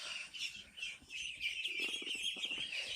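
Local ducklings about one and a half months old chirp on a duck farm in Assam, India: a quiet, continuous stream of high peeps from a group nearby, with no voices.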